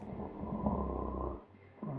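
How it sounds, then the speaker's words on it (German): A character in the video game Poppy Playtime Chapter 3 snores in a low, rumbling drawn-out breath that briefly drops away and then resumes, heard alone without talk. "Nee, der schnarcht."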